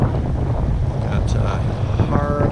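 Strong wind buffets the microphone without a break while someone fishes from a rocky shore by the water, a loud, steady roar that covers everything else.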